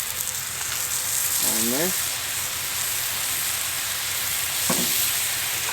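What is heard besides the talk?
dove meat sizzling on a Blackstone grill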